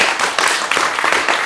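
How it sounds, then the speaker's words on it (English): Crowd of audience members clapping together at a live talk event, a steady dense wash of applause throughout, loud and close. "Clap again."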